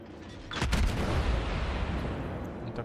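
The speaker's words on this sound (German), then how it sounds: "Die nächsten Schüsse fliegen auch schon wieder rüber." A single deep, booming naval gun blast in World of Warships rolls out after a brief quiet start, followed by a long rumbling decay.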